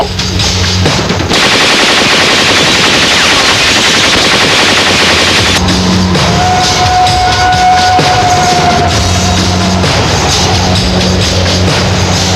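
Loud, sustained machine-gun fire in a Pakistani action film scene, rapid bursts rattling continuously, cut briefly by a pause, then resuming with a thin whining tone alongside.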